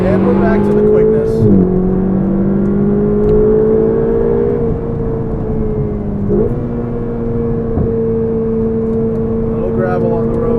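Ferrari 488 GTB engine pulling hard on an open road, a loud close-up drone with rising tones that drop at each gear change, heard from inside the car.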